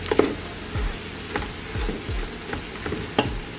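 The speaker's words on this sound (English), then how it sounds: "And this is the base of my sauce, my cream sauce. So I'm just gonna give this a mix here." Cream cheese being stirred into a cream sauce base in a pan: soft repeated scraping and stirring strokes over a faint sizzle, fairly close.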